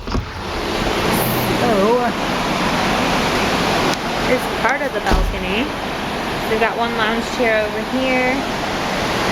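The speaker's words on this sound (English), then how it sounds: "it's going to be kind of loud, obviously, because of the water and the movement and everything" Broad, steady rush of ocean water streaming past a moving Carnival Dream cruise ship, loud and continuous, with wind noise and someone talking over it.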